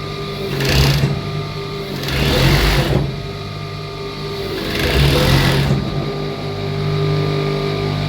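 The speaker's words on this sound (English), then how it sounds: "So I'll go ahead and load load it and start sewing." A sewing machine stitches two-piece night wear in bulk production, running in several loud, steady bursts separated by brief slower pauses, with a constant mechanical hum throughout.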